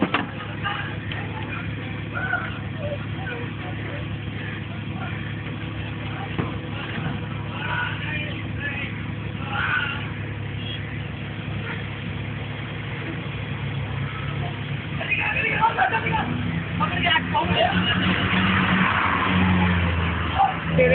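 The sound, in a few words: car engine revving as car is driven away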